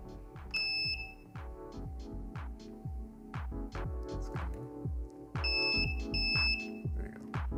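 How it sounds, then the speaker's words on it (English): A Hubble Lithium Cloudlink unit for Axpert inverters sounds short, high electronic beeps as it enters configuration mode. They come in brief pairs over a steady, pulsing low thump that runs throughout. "So to put the Cloudlink into configuration mode, we will be holding the M button until we hear two beeps."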